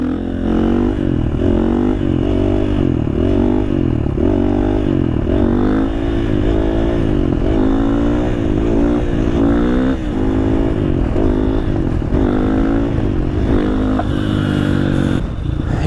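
A supermoto motorcycle being ridden revs and accelerates through repeated gear runs, the engine note rising and falling in close, loud surges with constant wind rush.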